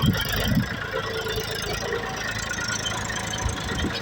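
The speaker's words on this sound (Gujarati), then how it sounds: "બીજું ટ્રેક્ટર આવે છે" Two tractors ploughing a field together with rotary tillers, a steady mid-pitched diesel engine rumble with rattling, the second tractor approaching and loud close by.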